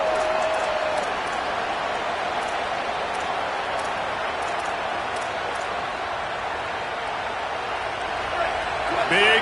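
A stadium crowd roars in an NCAA college football video game during a tense third down against Auburn, a steady dense wall of cheering held throughout under commentary, swelling slightly at the very end.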